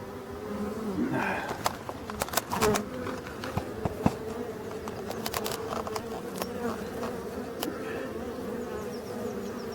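Local black honeybees buzz steadily at a hive entrance in sunshine, a dense close drone with individual bees zipping past the microphone in brief louder passes.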